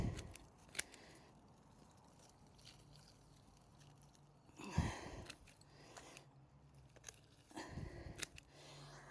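Garden scissors snipping dead flower heads make a few sharp, quiet close-up snips spread unevenly, with light rustling and handling sounds in between and no talk.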